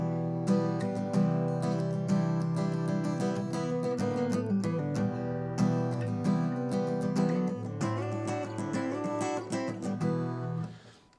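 A guitar riff for the chorus and verse plays in a dense, rhythmic run of strummed and picked notes, steady and close, fading out at the end with no talk.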